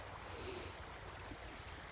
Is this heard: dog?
no